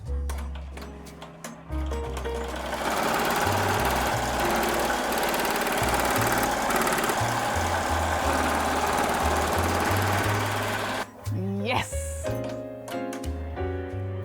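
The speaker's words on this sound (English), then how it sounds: "this is a double run stitch, so the machine's gonna go back over it anyway" An embroidery machine stitches a double run stitch on fabric for a keepsake piece made from old neckties, giving a steady, loud mechanical whir and rapid ticking that stops near the end, followed by a few short motor tones.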